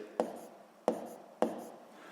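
Pen strokes while jotting down numbers for a school physics problem, three short scratchy taps spaced about half a second apart, close and quiet with no voices.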